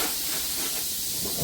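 A pressure cooker cooking dal lets off a steady, loud, unbroken hiss of steam, close and alone with no talk.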